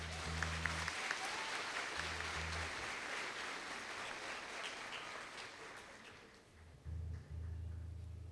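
A church congregation applauds during a worship service, a dense sustained clapping that fades toward the end while low rumbling tones pulse underneath.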